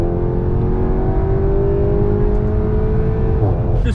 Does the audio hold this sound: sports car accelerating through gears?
yes